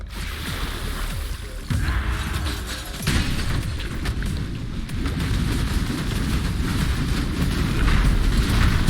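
A loot explosion in the video game Path of Exile rumbles and booms in dense, layered game effects that build in sudden steps and grow louder, with rolling low blasts throughout and no speech.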